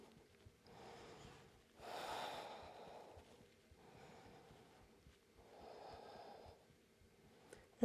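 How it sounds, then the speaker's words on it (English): Deep, slow breathing during a yoga back-strengthening pose, with two or three long, soft airy breaths, faint and close, and no talking. "Take a couple more breaths here."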